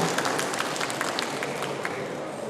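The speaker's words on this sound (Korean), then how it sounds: "행복한 삶을 위한 불자인의 자세 다시 한번 큰 박수로 청하면서" Audience clapping at a Buddhist dharma talk in Daegu, a brief steady wash of applause from a hall crowd, fairly loud and even throughout.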